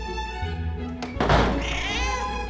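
A house cat lets out a drawn-out, whiny meow right up close after a dull thunk, the cry rising and then trailing off, loud against faint background noise.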